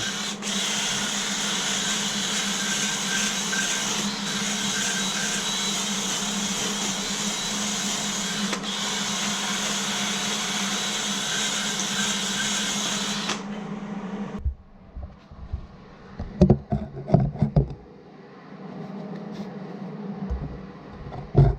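Arc welding a large crack in a cast iron small-block Chevy 350 engine block with cast iron rod: a steady, loud, dense crackling buzz runs for about fourteen seconds, then stops, leaving faint clicks and handling noises.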